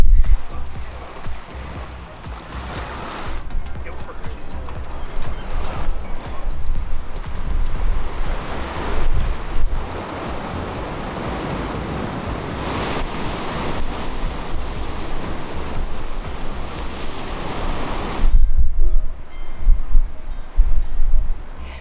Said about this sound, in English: There's something about when the waves are crashing like that.